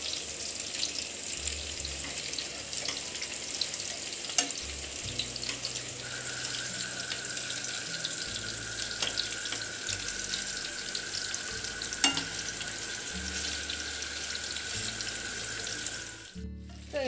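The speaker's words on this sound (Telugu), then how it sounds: "సో ఇలా కొంచెం బ్యాచెస్ వైజ్గా కొన్ని ఫిషెస్ వేసుకుంటూ మొత్తం అన్నీ కూడా ఫ్రై చేసేసుకోవాలండి." Fish pieces shallow-frying in batches in a pan for a fish curry, giving a continuous close hiss of hot oil with a faint steady whine and a few light taps, ending in a brief clatter.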